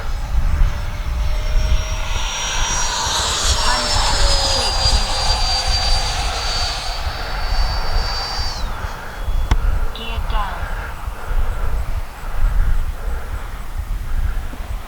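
A Freewing F-22 90mm electric ducted-fan RC jet spools up on a runway center line, a loud rising whine that sweeps upward and holds steady before tapering off, with steady rumble beneath and brief speech in the background.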